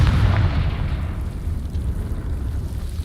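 A Confringo explosive spell cast in Hogwarts Legacy: a heavy, booming blast at the start that rolls into a long, rumbling low-end decay, loud and close with no talking.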